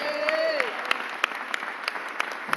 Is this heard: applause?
yes